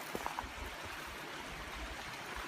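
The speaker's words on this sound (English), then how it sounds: "in this little stream right behind the campsite" A small stream in Romero Canyon runs right behind a campsite, giving a steady, faint wash of flowing water with a few brief clicks near the start and no talking.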